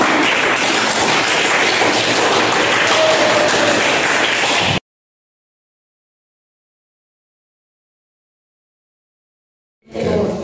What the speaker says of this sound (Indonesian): Tepuk tangan untuk yang bisa.